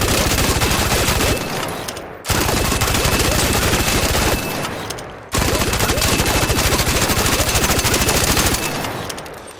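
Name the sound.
Torrente machine gun firing in video game ARC Raiders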